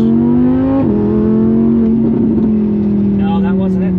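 Audi R8 engine and exhaust revving, a loud deep engine note that rises, dips, then holds steady, heard close from inside or beside the car while people talk over it.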